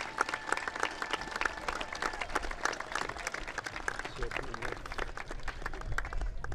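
A crowd applauds at a secondary school graduation ceremony, sustained many-handed clapping that stays fairly even throughout while a speaker talks over it.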